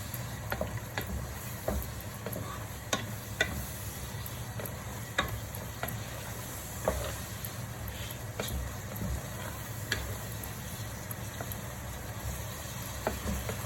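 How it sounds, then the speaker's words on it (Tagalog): Tuna pasta sizzles steadily in a pan while a utensil stirs it, with faint clicks and scrapes scattered over the continuous frying hiss. "Haluin po natin."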